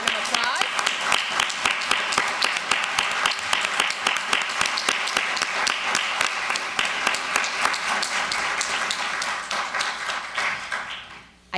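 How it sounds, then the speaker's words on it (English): A conference audience at a community justice event delivers a sustained round of applause, dense overlapping claps holding steady for about ten seconds before tapering off at the end. "give them a big round of applause."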